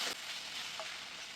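Bengali banana blossom curry sizzles and fries in a pan over a high gas flame as its water cooks off, a steady soft hiss with a brief scrape near the start and no talk.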